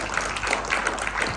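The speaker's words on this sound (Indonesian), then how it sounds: "Berikan tepuk tangan bagi Dia" A church congregation claps during a worship service, a brief dense patter of many hands at moderate volume.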